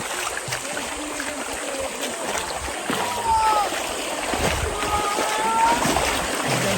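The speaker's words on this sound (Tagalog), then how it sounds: "So ito yung malinaw na ilog na daanan namin." Water splashes and trickles steadily as a motorbike fords a clear, fairly deep river, with a motor droning underneath and occasional faint voices and bird-like chirps in the open outdoor setting.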